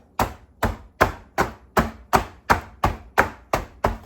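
A cake pan is rapped on a kitchen counter ten times in a steady rhythm, each knock close and crisp with a short ring, with no talk.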